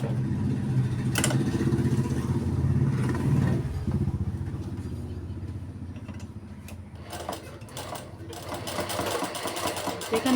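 A sewing machine stitching a shirt collar onto the body fabric, running in a loud steady mechanical whir, pausing briefly, then resuming in shorter bursts mixed with clicks and handling clatter nearby.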